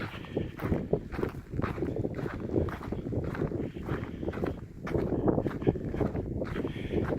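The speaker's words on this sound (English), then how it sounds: "I'm sorry if that wind is cutting into the sound here" Gusty wind buffets a handheld microphone outdoors on a walk toward a compound, a constant low rumble with surges and footsteps crunching underneath.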